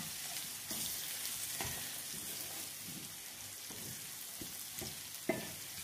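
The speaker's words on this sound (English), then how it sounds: "Continue stirring." Homemade fresh tomato sauce sizzles softly in a hot pan while a spoon stirs it, producing a steady quiet frying hiss punctuated by several distinct scraping strokes and one sharp knock near the end, with no speech.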